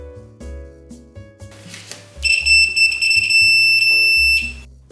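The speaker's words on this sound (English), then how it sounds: "Most multimeters use a sound signal to indicate continuity of an electrical circuit." A multimeter set to continuity test gives one steady, piercing beep of about two seconds, loud and close, over a background of thumping low music.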